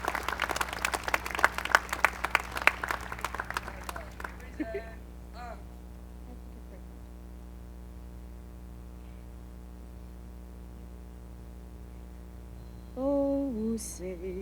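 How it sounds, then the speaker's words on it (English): Crowd applause at a 2022 Veterans Day ceremony in Winthrop as a singer comes up: dense, loud clapping for about four seconds that quickly dies away, leaving a steady hum from the sound system. "Have a big round of applause for Tina."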